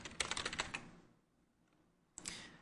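Keys clatter in a rapid burst of typing on a computer keyboard, a short run of clicks that pauses for about a second before a second flurry starts, close and fairly quiet.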